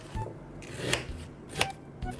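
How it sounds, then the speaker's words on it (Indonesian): Knife chopping taro (kimpul) into fry-shaped sticks on a board, a few soft, uneven cuts and sharp taps, close and fairly quiet with no talking. "Biar kayak kentang, kita potong kayak kentang goreng aja ya."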